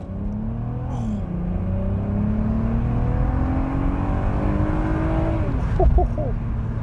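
A Mk1 Audi TT V6 accelerates on an open road, engine note rising steadily through the revs with a gear change partway, heard from inside the car at a constant moderate loudness.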